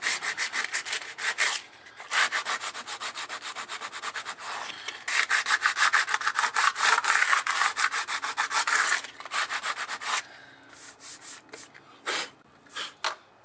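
A belt sander with 50 grit paper scrapes across wooden exterior house siding in long, loud rasping strokes with brief pauses between passes, close and alone with no talking.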